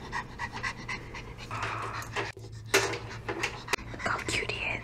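An excited, hyperactive dog pants quickly and rhythmically close by, with soft human murmuring and light handling noises around it.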